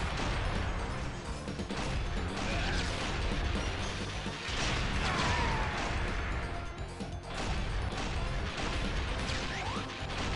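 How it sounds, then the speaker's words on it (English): Fireworks bursting outdoors on a July 4th night just after rain, a dense, continuous barrage of cracks and booms that stays loud throughout with no talk over it. "Oh, I hear fireworks."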